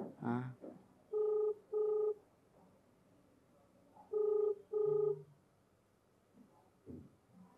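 Two pairs of electronic ringback tones purr over a phone line, separated by a pause, with brief murmured talk before and after.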